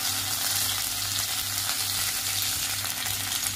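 Cumin, mustard seeds and curry leaves sizzle in hot oil, a loud, continuous hiss with fine crackling close up, over a low steady hum from the stove, with no voices.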